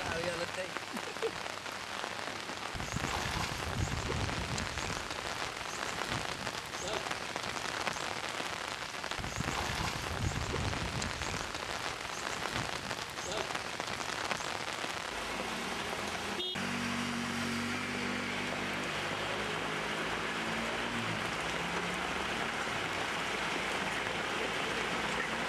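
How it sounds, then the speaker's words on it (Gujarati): Scattered rain showers on a gloomy day in Valsad, a continuous wash of falling rain that shifts partway through to a denser, closer patter, with no voices. "ગતરાત્રિથી છૂટા છવાયા વરસાદી ઝાપટા વચ્ચે વહેલી સવારથી વરસાદી માહોલ જામતા દિવસભર હેલી જામી હતી"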